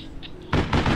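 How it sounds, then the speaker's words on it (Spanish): A grenade goes off in a video game match: two quick loud bursts in the second half, close and sharp after a quiet lead-in. "La granada."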